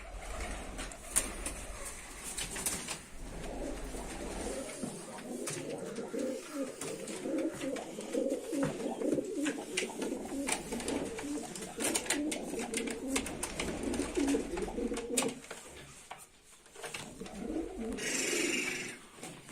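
Pigeons coo continuously in a coop, overlapping low, rolling calls close by, with occasional rustling and faint background noise.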